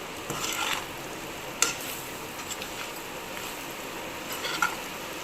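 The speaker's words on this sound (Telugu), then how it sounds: "ఇట్లయితే మొత్తం రెడ్గా ఫ్రై చేసుకోవాలి ఇట్లా ఫ్రై చేసుకోవాలి" Egg pickle mixture fried and stirred in a pan, giving a soft steady sizzle broken by a few scraping stirs and light clinks of the utensil against the metal, close and moderately quiet with no talking.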